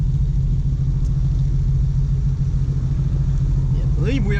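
Deep, steady engine rumble from Harley-Davidson motorcycles idling nearby at a car meet in Brandon, Florida, a constant low throb with traffic noise and a faint whine at the end.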